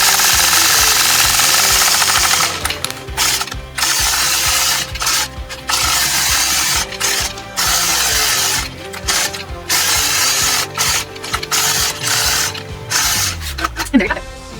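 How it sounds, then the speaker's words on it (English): A sewing machine quilts curved crosshatching lines across a quilt block guided by a mini 4-in-1 machine quilting ruler, its needle mechanism running in steady bursts with brief pauses between passes. "quilt those curved lines all the way across"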